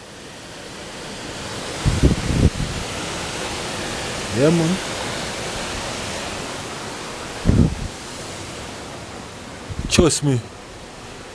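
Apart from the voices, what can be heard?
Duden waterfall rushing water in Antalya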